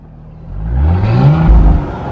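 A warmed-up 2021 Porsche Cayenne GTS engine revs up close, rising in pitch and swelling loud for about a second before holding, with no talking.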